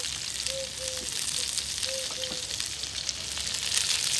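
Eggs fry inside onion rings in a hot pan with a close, constant sizzle and spatter, and a few faint tonal squeaks sound over it.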